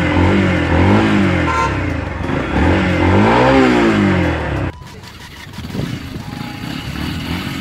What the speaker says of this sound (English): Quite a typical exhaust note from Yamaha.